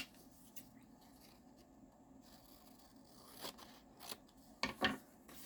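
Scissors snipping paper scraps during a crafting session, a quiet scratchy cutting sound that ends in a few louder crisp snips, with no talk.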